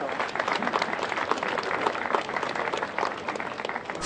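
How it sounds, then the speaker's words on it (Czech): Sustained crowd applause at the outdoor opening ceremony of a new barrier-free footbridge over the Elbe in Čelákovice, a dense, even wash of many hands clapping at moderate distance, continuing throughout. "Tak ještě jednou potlesk, dámy a pánové"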